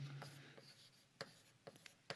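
Marker strokes on a classroom board during a German software engineering lecture, several short scratchy squeaks and taps spaced irregularly, fairly quiet against room tone.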